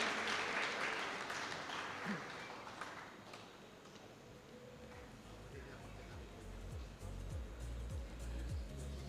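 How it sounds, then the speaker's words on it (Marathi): An audience at a cooperative society's anniversary celebration applauds steadily for a long-serving director, with a sustained wash of distant clapping that continues evenly for several seconds. "आपण जोरदार टाळ्या वाजवून त्यांचं अभिनंदन करूया"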